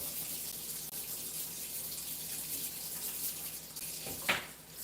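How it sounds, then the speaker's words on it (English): Water runs steadily from a faucet into a sink while items are rinsed, a soft constant splashing with a brief louder splash near the end. "I'm going to wash them in the sink with my washing hands."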